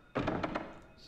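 A short, dull rattle of a locked door in the video game Silent Hill on PlayStation 1, a quick thunk followed by a few rapid knocking taps, over within a second.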